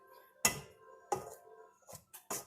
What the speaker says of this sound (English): So you just grate it in